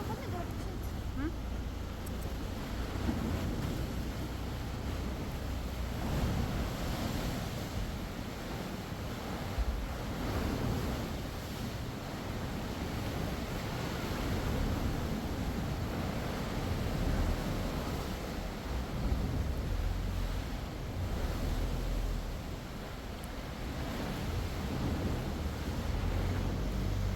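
Sea waves washing onto the shore on a trip north, a continuous loud roar of surf mixed with wind buffeting the microphone, steady throughout with no clear voices.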